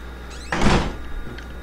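A door slams shut in the horror game Outlast with a single short, loud thud and rattle. Faint quiet background ambience comes before and after it.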